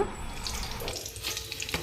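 Tempering of dried red chilli, cumin, mustard seeds and curry leaves crackles and sizzles in hot oil for ridge gourd chutney, a steady close frying hiss with no voices.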